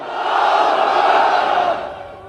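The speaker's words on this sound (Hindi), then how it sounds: "तो अगर अहद लेते हैं तो हाथ उठाकर कहिए नारे तकबीर, नारे तकबीर।" A large crowd roars the religious slogan Nara-e-Takbir in unison, a loud sustained collective shout that swells, holds and then fades.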